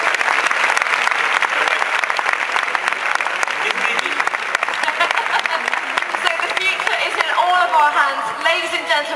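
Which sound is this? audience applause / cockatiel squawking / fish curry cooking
audience applause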